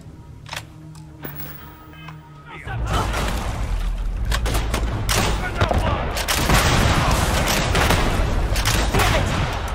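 Sustained gunfire and heavy blasts from a firefight in the space game Starfield, with a grenade going off; a quieter opening breaks into dense, loud, continuous shooting and booms with voices talking over it.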